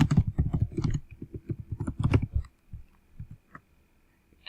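Rapid clatter of keys on a computer keyboard, a quick run of taps followed by a few slower, scattered presses that fade out.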